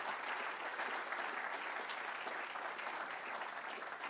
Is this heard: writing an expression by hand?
no